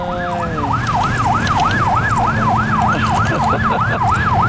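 A police siren wails, sweeping up and down in a steady repeating cycle, loud and close, over constant traffic rumble.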